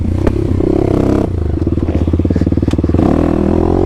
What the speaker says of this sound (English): first trail ride. KLX300 basically fully uncorked here.